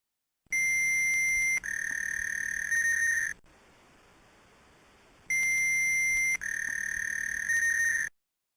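Two long steady electronic telephone dial tones from a dial-up modem connection, separated by a brief hissy gap, each tone loud and unbroken for several seconds before cutting off.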